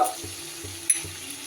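Spice masala with fried onion and garlic sizzles briefly in a pan, a short soft frying crackle with a couple of light stirring taps close by.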